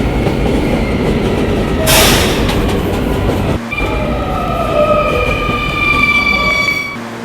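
R220 subway train riding toward its last stop, a loud, close interior roar of wheels and motors with rising and falling tonal whines, brief squeals and rattling, continuous throughout.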